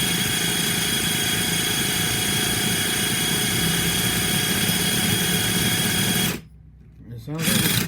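A Duratrax Evader DTX18 nitro RC car engine, low on compression, churns in a steady high buzzing drone as it is cranked, close and loud, then cuts off abruptly before a brief restart near the end.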